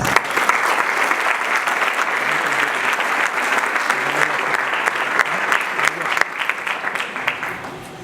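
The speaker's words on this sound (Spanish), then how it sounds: "La recibimos con un fuerte aplauso." Audience applause welcomes a speaker at a family and public policy conference, dense and steady for about eight seconds and easing only slightly at the end.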